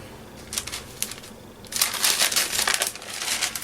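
A strip of handmade paper tape for a journal card is torn in half, giving a couple of soft crinkles and then a longer, louder rasping rip, close and alone.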